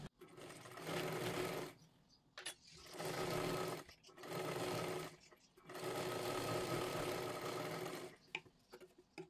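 A sewing machine stitches piping onto a size-42 katori blouse in four steady bursts of rapid mechanical whirring, separated by short silent pauses.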